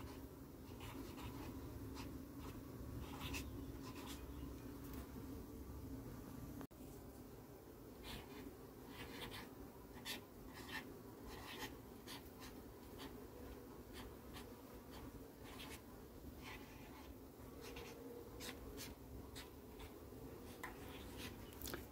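A Posca paint marker writes names onto beehives, making faint, quick scratchy strokes in short irregular bursts over a soft, steady background hum, quiet and close.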